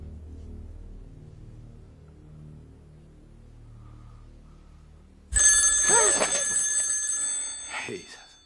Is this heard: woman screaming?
no